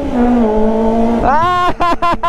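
A Kawasaki ZX25R motorcycle fitted with an IXIL exhaust, loud and close, holds a steady high idle, then revs sharply several times in quick bursts with crisp drops between them.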